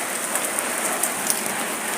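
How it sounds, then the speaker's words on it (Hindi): Heavy rain pours steadily outdoors in the evening, a dense continuous hiss with scattered brighter drop impacts close by. "अभी इतनी तेज़ बारिश हो रही है ना"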